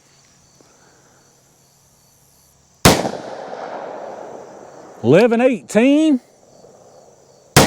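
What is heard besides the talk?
gunshots from handgun with longer barrel, self-defense ammo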